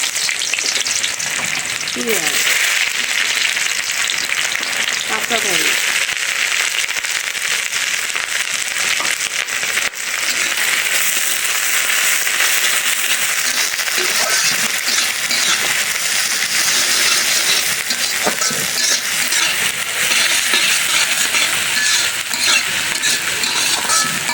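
Garlic fries in a pan with dried red chillies for a jackfruit-seed khichuri, making a loud, continuous sizzle with scattered crackles and light stirring clatter throughout.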